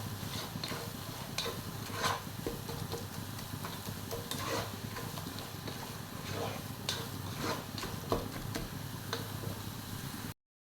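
A spoon stirs Thalassery-style chicken dum biryani masala in a pan, a steady run of scraping and tapping strokes with a few sharper clinks over a soft, low sizzle.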